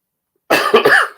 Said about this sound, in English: Cough getting better